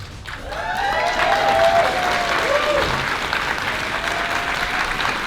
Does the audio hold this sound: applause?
yes